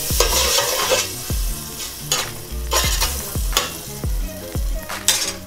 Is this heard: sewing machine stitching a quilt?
no